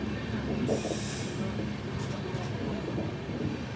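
A Kerala Sampark Kranti Express train rolling slowly into Ernakulam Town station, with a steady rumble of wheels on rails and brief high metallic wheel squeals, heard from inside the carriage.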